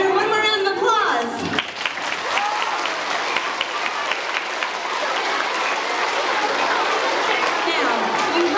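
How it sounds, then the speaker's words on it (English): A school show audience breaks into loud, sustained applause for a performer dressed as a crocodile hunter, a dense roomful of clapping that carries on evenly after a brief spoken announcement at the start. "Give that crocodile hunter one more round of applause"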